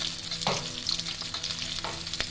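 Ginger and cumin paste hitting frying koi fish in a pan, a brief close sizzle with a couple of stirring scrapes and a small clink.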